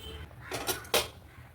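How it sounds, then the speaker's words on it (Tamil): A metal lid goes onto a cooking pot of goat intestine gravy, giving two quick clanks in close succession, the second slightly louder, against a quiet kitchen background. "எல்லாமே ஓகேவாக இருக்குது. நம்ம வந்துட்டு மூடி போட்டுடலாம்."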